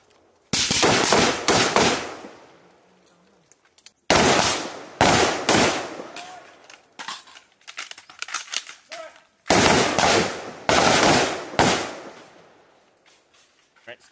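Rapid bursts of gunfire from a special operations live-fire range drill during Exercise Balikatan 22, several loud clusters of close shots separated by short pauses, with faint voices between volleys.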